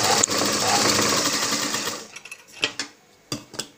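An electric sewing machine stitches a dhoti dress, humming steadily for about two seconds before breaking into short, stop-start bursts of stitching.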